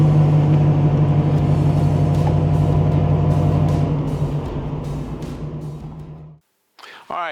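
A 1969 Camaro Z/28 with a 302 V8 and 4-speed idles with a steady, loud low rumble up close, which cuts out near the end before a brief voice is heard.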